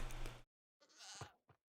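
A goat in Minecraft snapshot 21w15a bleats twice, a close, loud bleat followed after a short silence by a second longer cry that ends with a brief extra bleat.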